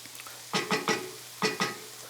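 Onions, garlic and peppers sauteing in a pan for Cajun stewed chicken, with five quick scraping stirs in two bursts over a low, steady sizzle.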